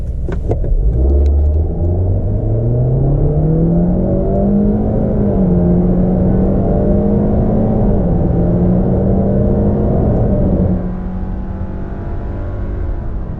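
A 2024 Subaru Crosstrek engine drones steadily as the car accelerates hard from a standstill on a flat road, pitch climbing slowly and holding strained before easing off near the end, loud and close with no talk.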